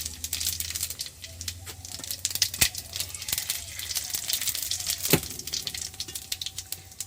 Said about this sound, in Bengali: এবার জিরে ফোড়ন দিয়ে দেবো।